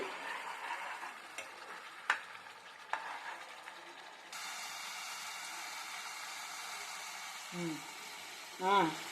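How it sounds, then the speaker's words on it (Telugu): Masala paste frying in a pan for a prawn fry: a steady, fairly quiet sizzle with a few sharp stirring knocks early on, rising to a fuller hiss midway. A short voice comes in near the end. "మసాలా అయితే మనకి వేగిపోయిందండి"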